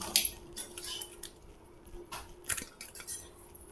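A knife cuts through a mango in a home kitchen, giving scattered light taps and scrapes of the blade with a few sharper clinks, close and fairly quiet.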